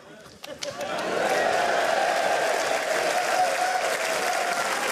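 A theatre audience at Stewart Lee's Live at the Apollo breaks into applause after a few scattered claps, then swells into sustained, dense clapping that stays loud to the end.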